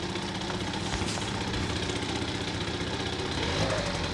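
A Yamaha Aerox 50cc scooter engine runs steadily and revs with the throttle during a drive belt and variator service, a close, continuous two-stroke buzz that swells slightly near the end, with no talk.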